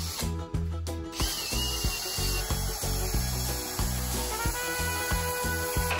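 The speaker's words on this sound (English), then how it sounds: "we clean up these edges with a wire brush" A power wire brush scrubs the edges of a wooden charcuterie board, a close, harsh whirring grind that cuts in and out in short repeated passes.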